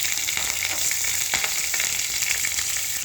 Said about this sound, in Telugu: ఇదో ఉల్లిపాయలు వేస్తున్నాను, ఎండుమిర్చి వేసినవి.